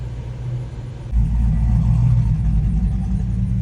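A loud, close engine rumble swells up suddenly and holds steady, a heavy vehicle rolling nearby, with no speech.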